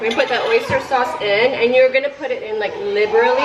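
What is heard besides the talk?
None of the usual background noises is heard.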